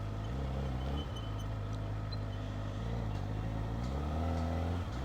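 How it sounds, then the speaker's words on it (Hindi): A superbike's engine under way, a loud sustained rumble that rises and falls in pitch as the rider shifts and revs, with no talking over it. "भाई जो ये आवाज़ है ना इस बाइक की, ये काफ़ी है इस बाइक को ख़रीदने के लिए"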